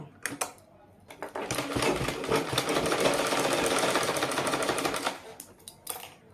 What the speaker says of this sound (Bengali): এবার আমি সেলাই করে নেব